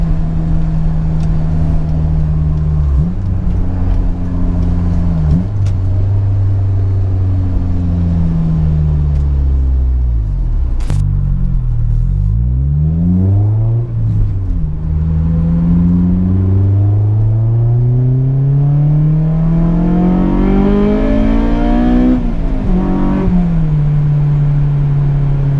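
A Honda S2000 engine heard from inside while driving, droning steadily, then revving up and down through gear changes with rising and falling pitch sweeps, loud and continuous, no talk.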